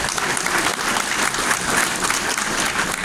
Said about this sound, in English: Clap it up for First Deputy Mayor Sheena Wright.